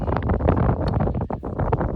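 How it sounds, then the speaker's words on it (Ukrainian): Gusty outdoor wind buffets the microphone during a metal-detecting outing in Ukraine, a continuous loud rumbling roar with uneven surges and no voices. "Надіюсь, не буде сильно чути вітру."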